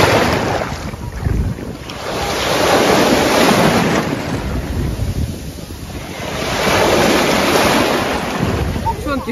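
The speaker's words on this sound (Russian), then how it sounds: "Море сегодня обалденное." Sea waves and gusting wind at the shore, with surf washing in rolling swells and heavy wind buffeting the microphone, loud and close throughout.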